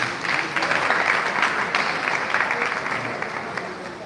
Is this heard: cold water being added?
no